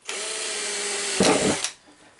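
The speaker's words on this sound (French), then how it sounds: "même la perceuse elle passe facile" A power drill bores a small hole in an unbreakable tile, a loud steady whine that rises into a harsher grinding burst near the end before cutting off abruptly.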